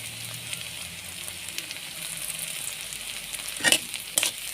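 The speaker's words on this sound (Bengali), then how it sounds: "পেঁয়াজ ভাজতেছি" Onions frying in a pan give off a soft, steady sizzle, with a couple of brief clatters near the end and no talking.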